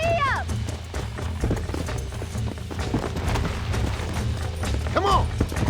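A horse galloping hard in Red Dead Redemption, loud pounding hoofbeats with whinnies and shouting voices over the action.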